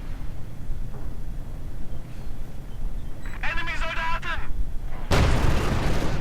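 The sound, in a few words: light machine gun fire in Company of Heroes 2 video game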